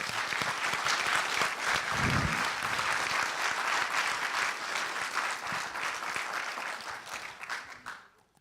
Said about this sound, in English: let's give them a round of applause, if you will